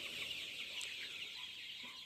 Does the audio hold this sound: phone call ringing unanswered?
no